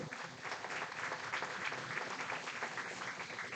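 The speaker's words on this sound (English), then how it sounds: "Please give a round of applause for Alexa" A crowd at a baseball game applauds before the national anthem, with steady, dense clapping that stays even throughout and sounds moderately distant.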